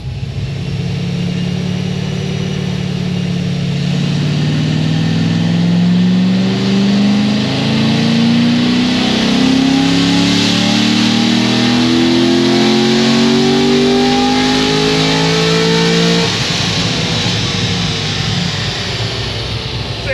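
A car fitted with an RPM Stage 3 tune runs a dyno pull, its engine revving loud and close with a steadily climbing pitch before it cuts back near the end.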